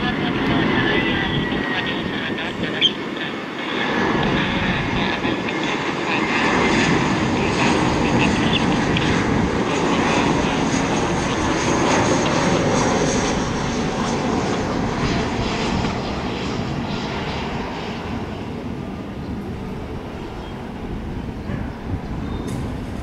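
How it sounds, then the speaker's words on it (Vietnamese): A Vietjet Air Airbus A321 lands on runway 25R, heard as a loud, steady jet roar with broad rushing noise that holds for the whole stretch and eases slightly near the end. "chiếc máy bay đang hạ cánh xuống đường băng 25 phải"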